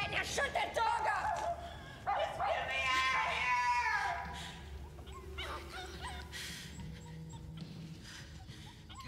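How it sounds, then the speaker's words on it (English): A dog barks during a tense scene in a 1991 thriller, the barks mixed with voices and film sound at a moderate level over several seconds. "Shut that dog up."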